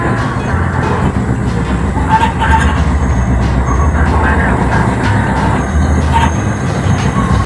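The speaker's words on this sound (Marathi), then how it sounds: "असे बरेच वळणं घेत घेत आपली ट्रेन माथेरानचे डोंगर चढणार आहे" Matheran toy train, a narrow-gauge hill railway, climbing the curving hill line, a loud steady rumble of wheels and carriages with rattling clanks and a faint squeal, close and continuous.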